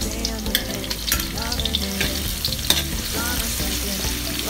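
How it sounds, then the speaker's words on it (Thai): Chopped garlic stir-frying in oil in a pan for a Thai pork belly and kale dish, giving a loud, steady sizzle with repeated scraping strokes of a spatula and no voices. "เพื่อนๆผัดกระเทียมให้หอมก่อนนะครับผม"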